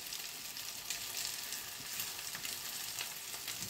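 Steady, quiet sizzling of cutlets frying in a pan, with a soft continuous crackle.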